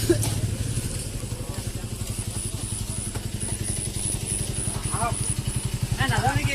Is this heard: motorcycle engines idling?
yes